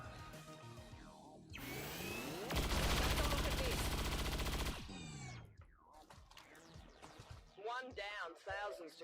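Weapon fire from XCOM 2 erupts as a sustained, loud, dense rattling burst lasting a few seconds, followed by quieter game sounds and effects.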